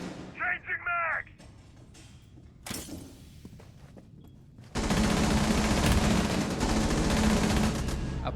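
Automatic rifle fire in a Rainbow Six Siege competitive match: brief loud bursts early, then a sustained dense barrage of close gunfire filling the second half.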